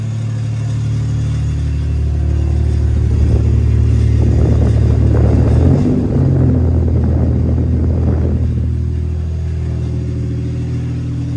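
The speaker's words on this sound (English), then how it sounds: "You can hear those temporary hangers really rattling." Exhaust on a Toyota Tacoma hung on temporary hangers, a steady loud engine rumble that swells into a rattling, revving burst midway before settling back to idle.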